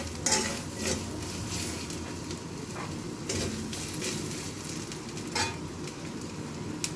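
Coconut, mustard seeds, cumin and dried chili sizzle hard in hot oil for a dal tempering, a dense continuous crackle with sharp spattering bursts and occasional clinks of a spoon against the pan, close and loud.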